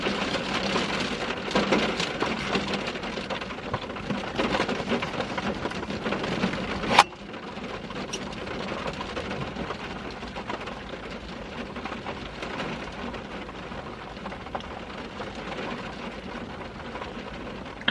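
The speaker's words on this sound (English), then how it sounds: "rain is really coming down now." Heavy rain pouring down steadily, a dense continuous hiss with a sharp knock partway through, loud and close with no talking.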